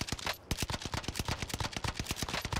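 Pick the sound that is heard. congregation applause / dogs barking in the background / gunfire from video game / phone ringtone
gunfire from video game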